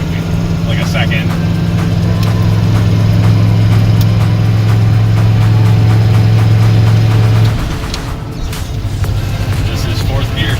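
A Ford F250 truck engine drives in third gear with a steady low drone, loud and continuous, then the tone drops and eases off near the end as the truck shifts or slows; a voice talks over it.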